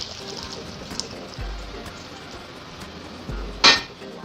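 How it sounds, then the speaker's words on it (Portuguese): Water being drained off cut pears in a home kitchen while making a gorgonzola quiche, with soft trickling, light clinks of a pan or utensil and a sharp metallic clatter near the end, all fairly quiet. "Então eu vou escorrer essa água."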